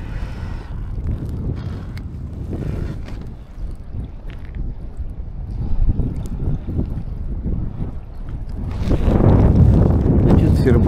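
Wind buffets a fishing boat on open water, a steady low rumble of gusts against the microphone that swells louder near the end, with faint talk underneath.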